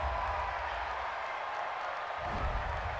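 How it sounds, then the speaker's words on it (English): A home stadium crowd cheers a pass interference call during a Houston Texans versus Seattle Seahawks NFL game, a steady broad roar with applause, heard from a distance and without commentary over it. "This home crowd, they're happy with that call."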